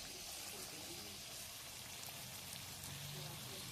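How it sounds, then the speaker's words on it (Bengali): Chicken sautés in a pan with a little water added, giving a continuous, soft crackling sizzle that stays steady throughout, with faint speech underneath. "জল দিয়ে মাংসটা কষতে থাকবো যতক্ষণ কষানো হবে।"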